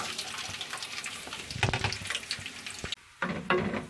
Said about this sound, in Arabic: كنديروا الزيت في المقله يسخن، كنخويو اللوز ديالنا.